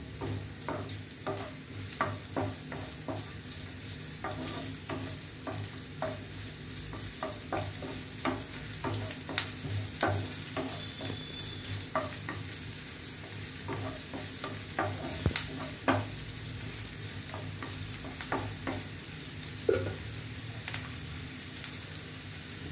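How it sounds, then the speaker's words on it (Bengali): Onion and garlic fry in a pan while being stirred, a steady low sizzle punctuated by regular scraping strokes of a spoon, close and moderately quiet, with no talking. "পেঁয়াজ রসুনের কাঁচা গন্ধটাকে দূর করার জন্য এটা আমি একটু ভেজে নিচ্ছি"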